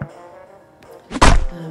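A TNT blast in the Royal Match puzzle game: after a quiet, tonal stretch, a single loud, thudding burst hits and sustains briefly before tailing off.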